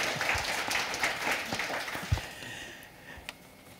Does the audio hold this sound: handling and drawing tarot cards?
no